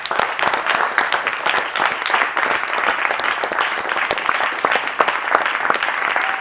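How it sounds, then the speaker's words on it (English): A church congregation claps at a service: dense, steady applause from many hands, close and loud, holding evenly for several seconds with no clear voices over it. "Give Mr. Hugh a hand clap."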